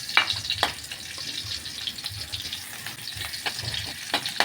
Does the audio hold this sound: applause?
no